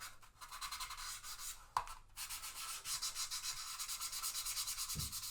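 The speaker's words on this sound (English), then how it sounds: "the other good thing about these sanding sponges is obviously you can get into all the hard to reach places" Rhythmic rubbing strokes of a sanding sponge on a Monogram B-25 model kit scrape back and forth close up, a quick steady scratchy pattern with a brief pause and a soft knock.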